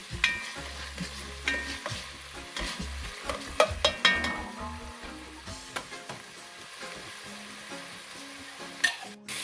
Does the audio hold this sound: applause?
no